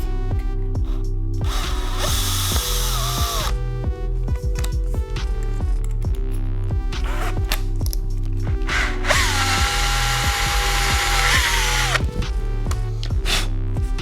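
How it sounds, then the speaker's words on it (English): A power drill whines loudly and steadily, stepping up bit sizes to 1/8 inch while drilling a hole in a 2017-2020 Honda CBR1000RR for a frame slider, its pitch rising in two long bursts with brief pauses and clicks between. "need to drill that hole."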